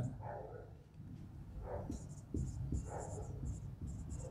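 Pen or chalk scratches out an example sentence during an English grammar lesson, with faint intermittent scraping strokes beneath a teacher's steady speech.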